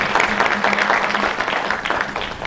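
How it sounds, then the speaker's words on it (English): Audience applause at the inauguration ceremony of an international archaeology conference, a dense continuous patter of many hands clapping at steady loudness throughout, with a faint hum underneath. "Let's give Mr. Binoy a big round of applause"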